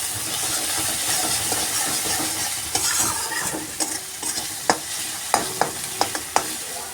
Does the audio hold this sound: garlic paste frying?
yes